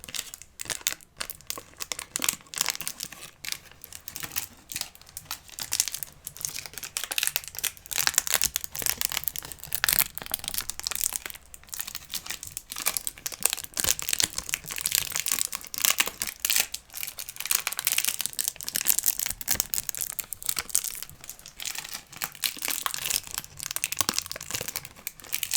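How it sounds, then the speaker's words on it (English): Continuous close crinkling of crisp material, dense irregular crackles rising and falling in intensity throughout, no voices. "I'll try now the crinkly sound"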